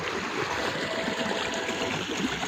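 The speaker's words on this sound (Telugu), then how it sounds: "ఈరోజు గత 3 రోజులుగా వర్షం కురిసినటువంటి పరిస్థితులలో ఈ నీళ్ళు ఇదే విధంగా పోతూ ఉంది." Rainwater runs off in a stream after three days of rain near Turkapalli mandal, carrying washed-away soil; a steady, continuous rushing and gurgling flow, fairly close, with no voices.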